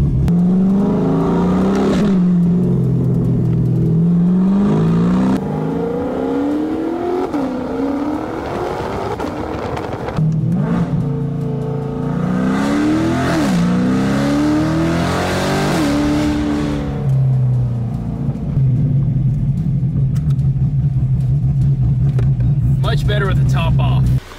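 Cammed Corvette C8 with the top down, engine revving and rising in repeated pulls with a lumpy, throaty tone, close and loud, passing into a steady drone near the end.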